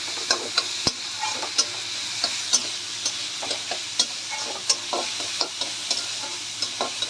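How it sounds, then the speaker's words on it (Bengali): Chopped onion frying in a pan on a tawa while being stirred, a steady close sizzle broken by repeated scraping clicks of the spatula, with no voices. "পেঁয়াজটাকে হালকা ভেজে নেব"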